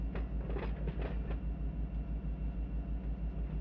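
Freight train of 59 loads, mostly empty cars, rolling in the Run 8 train simulator, with a steady low rumble and rhythmic pulsing wheel beats, plus a brief burst of clatter near the start.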